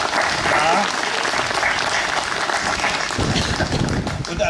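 A congregation applauds at a motorcycle church service in Klausen, Bernkastel-Wittlich district: dense, steady clapping that fills the whole stretch at close range, with voices mixed into the crowd.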